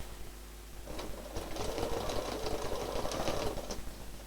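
A sewing machine doing free-motion stitching runs close and steady, its rapid rhythmic needle chatter starting up after a quiet moment and continuing without talk.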